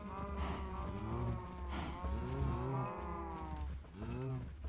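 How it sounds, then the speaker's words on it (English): Many cows in the Minecraft Cobblemon mod moo repeatedly and overlapping, a dense, continuous chorus of low bovine calls filling the whole stretch without pause. "Wow, that's a lot of cows. I didn't realize how many cows I had."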